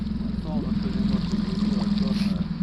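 An outboard boat motor idles steadily on a cool morning on a river fishing trip, a low continuous hum with a strong rhythmic drone running throughout while a person talks over it.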